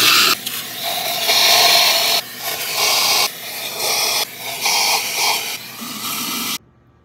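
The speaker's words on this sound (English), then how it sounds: "I'm gonna run the vacuum through here one more time" A vacuum cleaner sucks debris from around a Jeep JK intake manifold, a close, loud hissing roar that surges and dips in uneven bursts as the nozzle moves, then cuts off abruptly near the end.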